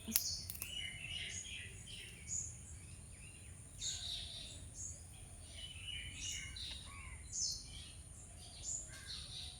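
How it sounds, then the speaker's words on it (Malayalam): Faint bird chirps come from far off, scattered short calls over a steady low background hum. "കിളികളുടെ കോലാഹലം നിങ്ങൾക്ക് കേൾക്കാൻ പറ്റുണ്ടാകും ദൂരെയാണ് അവർക്ക് ചിലക്കണേ ചിലയ്ക്കുന്നത്"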